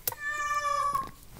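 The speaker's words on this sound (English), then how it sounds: "Where are you meowing at?" A single cat meow, close and clear, rising then falling over about a second, with small rustles around it and no talk.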